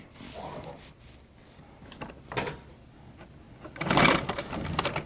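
A sewing machine stitches a dart in fabric, with short bursts of mechanical whirring and clatter separated by pauses and the loudest run near the end, close and alone.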